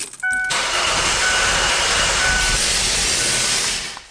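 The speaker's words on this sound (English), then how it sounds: "I'm going to crank the engine over and I want you to listen" Car engine cranking over with the accelerator pedal floored and a dead cylinder, a steady close whirring crank with an uneven beat that runs for about four seconds before stopping.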